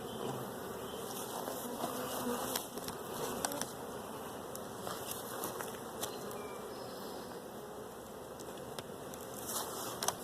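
Honey bees swarm around stacked hive boxes in a queen-rearing yard, filling the air with a dense, steady buzz that holds at an even level throughout, with no voices.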